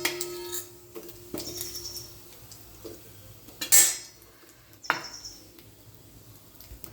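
A spoon scrapes and clinks against a pan as paneer masala gravy is stirred. The clinks are sparse and close, with a sharper scrape midway and another near the end, and no talking.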